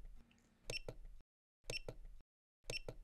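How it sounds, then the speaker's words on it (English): Keypad on a safe beeping during password entry: short bursts of bright, close tones, each group with a couple of quick beeps, separated by brief silences. "If you are enrolling a password, input a 5-digit password. Input the password again."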